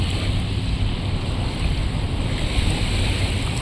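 Steady surf washes along the shore at Manila Bay beach, a constant broadband rush of breaking waves mixed with wind buffeting the microphone, loud and unbroken throughout.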